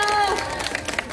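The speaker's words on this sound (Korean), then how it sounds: "박수 한번 주실까요?" A street crowd at a Hongdae busking show gives a short burst of applause and cheering, brief and lively, with a voice over it.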